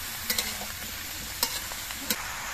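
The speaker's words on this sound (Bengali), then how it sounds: "ডালটা দিয়ে নেড়ে চেড়ে মিশিয়ে নিতে হবে" Chana dal being stirred into soft bottle gourd in a pan, a low steady sizzle with a few sharp spoon scrapes and taps against the metal, close but fairly quiet.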